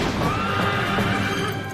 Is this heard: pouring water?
no